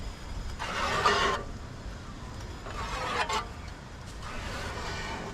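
A vintage chaff cutter from Brisbane engineering and foundry history runs with its cogs turning, giving bursts of broadband mechanical whirring and clatter that swell and fade in three rough waves at moderate, fairly close range.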